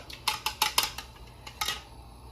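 A very hot pan being swirled on the stove while making a tomato egg scramble gives a quick run of metallic clinks and scrapes, about seven close, sharp knocks over two seconds, with no voices.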